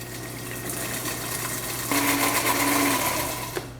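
A mixer blends mayonnaise ingredients with salt and cayenne pepper, giving a steady, close motor whir that shifts pitch and grows a little louder partway through before cutting off.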